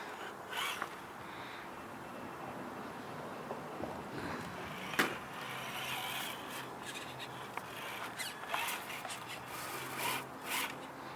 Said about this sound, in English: Tire slipping a little bit on the snow.